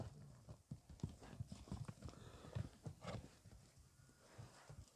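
A six-year-old bay horse's hooves clip-clop in an uneven walking rhythm, with close, distinct knocks and occasional snorts amid quiet outdoor background.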